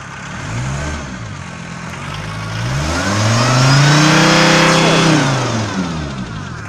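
A Volkswagen T4 Caravelle diesel van engine, warmed up, idles, then revs up smoothly and settles back down, close and loud with a rough mechanical rumble.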